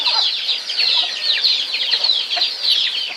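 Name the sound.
pet chicken clucking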